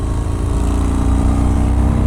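A Yamaha MT-01 cruiser motorcycle's big engine runs steadily close by, a loud, even rumbling idle with no talk.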